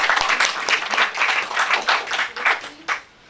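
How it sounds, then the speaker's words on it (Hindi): An audience at a literary ceremony claps in a brisk, dense patter that swells and fades in waves before stopping abruptly near the end. "तो दोस्तों ताली बजा के हम स्वागत कर सकते हैं बेवा जी का"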